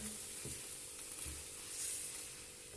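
Chicken filling with ketchup and chili sauce sizzles softly in a pan, a faint steady fry with a couple of light stirring knocks and no talk.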